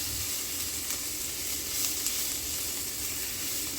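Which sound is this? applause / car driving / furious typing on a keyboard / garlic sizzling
garlic sizzling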